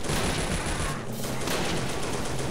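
Rapid bursts of machine gun fire in the World War II video game Faces of War, loud dense rattling volleys with a brief gap near the middle, no voices.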